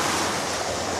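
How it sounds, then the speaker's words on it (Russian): Small sea waves wash steadily onto a beach in Antalya, Turkey, a continuous broadband surf roar with wind noise on the microphone and no speech. "Но сегодня волна небольшая."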